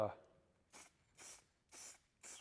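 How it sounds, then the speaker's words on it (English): Four short bursts of spray paint hiss from an aerosol can onto a box at a steady rhythm, close and fairly soft, after a brief knock at the start. "spray on the box, just try to get an idea of how it's going to spray"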